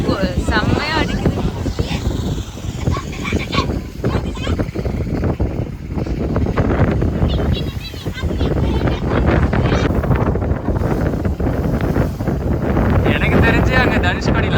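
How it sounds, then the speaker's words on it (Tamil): Strong wind buffets the microphone at a beach near a temple, a steady loud roar of rushing air under ongoing talk throughout. "காத்து செம்மையா அடிக்குது."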